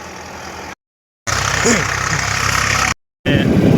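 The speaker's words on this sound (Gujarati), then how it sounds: "ગાડી નીકળવાની તૈયારી છે પણ થોડી ગાડી ફસી જાય છે" A stuck vehicle's engine idles with a steady low rumble, broken twice by brief silent gaps.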